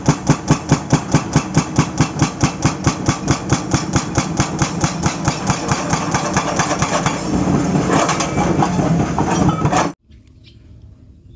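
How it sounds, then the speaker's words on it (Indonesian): An excavator rock breaker hammers stone with loud, rapid, evenly spaced blows over a droning engine. The pounding blurs into a continuous rattle before cutting off abruptly near the end. "Di sini ada ekskavator pemecah batu"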